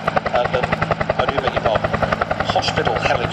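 A military medical evacuation helicopter flies past at an air show, its rotor blades beating out a loud, steady, rapid chop over the engine's whine throughout, with voices faintly underneath.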